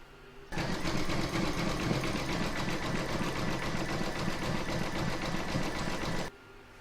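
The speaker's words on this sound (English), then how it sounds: "I'm now going to pop that into my machine and stitch round number 4, which is going to do the decorative border" An embroidery machine stitching a decorative border on a towel topper hums and chatters in a rapid, even rhythm, starting and stopping cleanly, close and alone.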